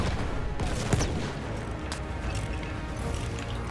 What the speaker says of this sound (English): Where are we taking fire from?